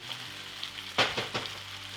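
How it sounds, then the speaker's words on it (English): Ginger, garlic and whole spices sizzle and crackle in a hot pot, with a few sharp bursts of frying and stirring near the close mic and no voices. "Sweat the ginger and garlic and toast the spices."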